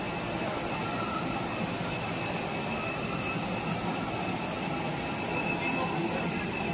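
An airplane's jet engines at an airport make a steady, broad roar with a faint whine, constant and moderately distant, with no clear talking.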